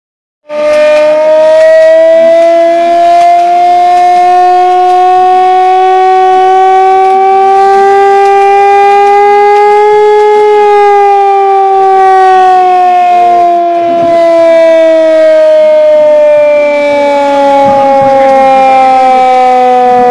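A city civil-defense emergency siren wails loud and unbroken for about twenty seconds after an attack, its pitch rising slowly, then falling, with no voices.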